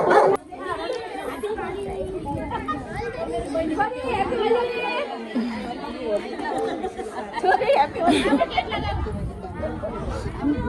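A dog barks and yips repeatedly amid lively chatter of adults and children playing at an outdoor Holi celebration, the barking mixed in with the voices.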